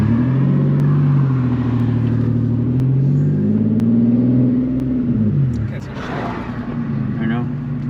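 Boosted Nissan 370Z engine droning and revving during donuts, a loud low rumble rising and falling before dropping away as the engine dies, with people talking over it.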